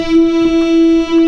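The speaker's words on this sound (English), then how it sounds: "So here's this is chorus" A Moog Poly D synthesizer with its chorus effect engaged holds a single sustained tone, steady and close, with a slight shimmer across its harmonics.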